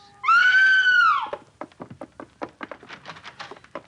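A woman in a radio crime drama lets out one loud, sustained, high scream to raise the alarm, cutting off into a run of faint, rapid tapping clicks.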